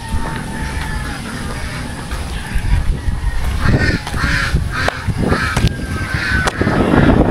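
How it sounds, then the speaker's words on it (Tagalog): Geese honk noisily outdoors at close to middle distance, a cluster of harsh calls rising over a steady background of ambient noise, with the honking growing busier toward the end. "Ingay yung mga gansa, oh."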